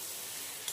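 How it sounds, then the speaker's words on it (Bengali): Meat frying in a pan for a spicy home-cooked dish, a steady close sizzle throughout with a faint tick near the end. "আমি এখন মাংস চাপিয়ে দিব।"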